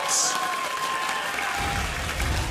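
Esports arena crowd at a 2014 NA LCS Summer match between CLG and DIG, applauding and cheering steadily throughout, a broad continuous wash of clapping and voices.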